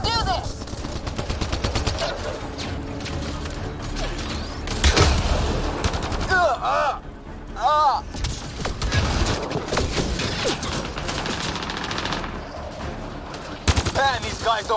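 Gunfire in a firefight from the video game Mass Effect: Andromeda: sustained automatic bursts and sharp single shots crackle densely throughout, loud and close, with booming hits and whining ricochets, and voices shouting now and then.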